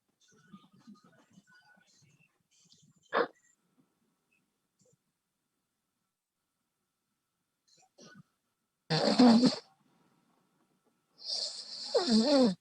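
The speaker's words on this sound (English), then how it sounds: "Somebody's snoring." A person snores during a quiet trading session, two or three harsh, rasping breaths spaced apart with faint background sounds between, moderately loud and close.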